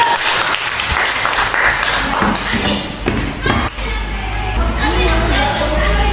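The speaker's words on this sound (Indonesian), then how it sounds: "Kasih tepuk tangan dulu." A classroom of schoolchildren claps together, a burst of close, uneven hand clapping mixed with chatter and a few thumps, with voices talking throughout.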